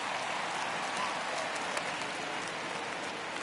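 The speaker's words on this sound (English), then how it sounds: "You just sensed it was coming with the heaviness of the rain" Heavy rain falling steadily during a baseball game in a video game, a dense, constant hiss with scattered drop impacts throughout, fairly loud and with no talk over it.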